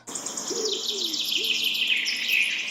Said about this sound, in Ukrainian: Все частіше можна почути спів зимуючих птахів.